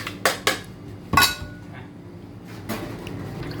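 Herbs and vegetables such as galangal, lemongrass, shallots, tomato and coriander root dropped into a metal cooking pot for chicken tom yum, giving a few sharp clanks near the start and middle, then quieter handling noise.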